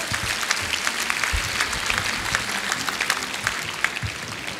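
A crowd at a yoga event claps steadily, a dense wash of applause that holds at an even level from start to finish.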